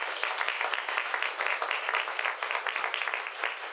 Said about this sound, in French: je nous invite à donner une bonne main d'applaudissement à tout le monde